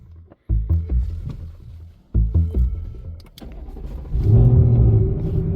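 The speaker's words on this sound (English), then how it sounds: "The car will turn over, but it will not fire, and it'll self-cut itself off." A Ford Mustang S650 engine cranks over without firing while oil is primed, the starter churning in two rhythmic bursts of chugging turns that end in a steadier rumble, loud and close.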